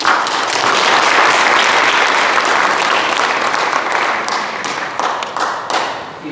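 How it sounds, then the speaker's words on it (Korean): Steady, full applause from a forum audience in a hall, clapping in welcome for several seconds before gradually thinning toward the end. "여러분들 큰 박수로 환영해 주십시오."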